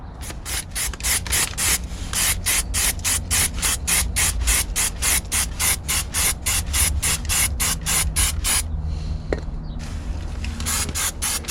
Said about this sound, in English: then I'll spray this stone chip all around these bits.